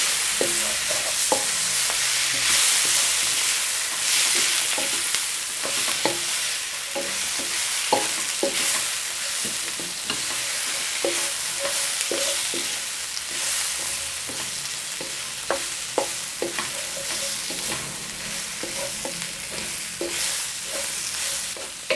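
Salt and pepper chicken wings sizzle as they are fried and stirred in their seasoning, with a steady crackle and repeated clinks and scrapes of a utensil against the pan throughout, close and alone without speech.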